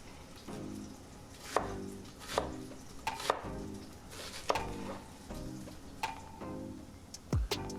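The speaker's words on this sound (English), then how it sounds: "we're gonna chop us up one whole onion" A knife chops a whole onion on a board, with a dozen uneven, fairly quiet thuds spread over a few seconds and light kitchen clatter between them.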